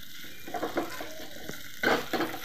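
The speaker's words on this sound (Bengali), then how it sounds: "চিংড়ি মাছ দিয়ে দেবো। চিংড়ি মাছের সাইজটা দেখুন কত বড়। একটু নাড়বো" Large prawns fry in a pan over medium heat, with a quiet background sizzle broken by two short bursts of scraping and stirring.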